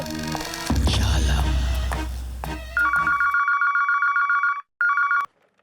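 A telephone ringing in an Indian comedy sketch: after a noisy musical opening, a steady electronic ring sounds alone in two long bursts separated by a short pause, then cuts off.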